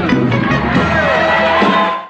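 A live audience at a Nashville, Nevada club country show erupts into loud, sustained cheering and roaring, a dense wall of voices that swells and holds for about two seconds before dropping off.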